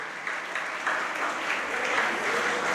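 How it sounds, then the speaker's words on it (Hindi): Audience clapping at a Jain sermon (pravachan) in Itarsi, Madhya Pradesh, a steady dense applause from a seated crowd that holds fairly even throughout with no talk over it. "अब ताली बजाओ, बजाना है तो"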